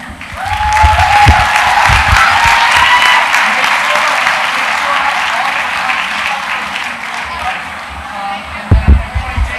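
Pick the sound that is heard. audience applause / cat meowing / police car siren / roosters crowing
audience applause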